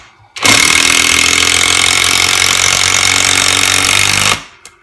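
A Greenworks 24V cordless drill driver whirs steadily at full speed for about four seconds as a 3-inch screw is run into wood without pre-drilling, then winds down abruptly.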